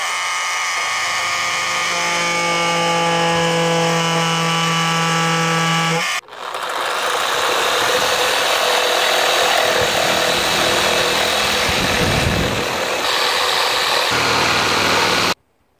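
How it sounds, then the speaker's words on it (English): A power tool cuts through the air intake silencer tube on a Dodge Dart, a loud continuous whining drone with a harmonic pitch for about six seconds, then a harsher, noisier grinding roar that runs steadily until stopping near the end. "I'm going to go ahead and get a power tool,"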